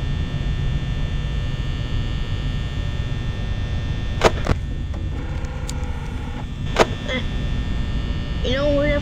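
An office ceiling fan in the Five Nights at Freddy's video game gives off a steady, droning electric hum that never lets up, broken by a few sharp clicks partway through.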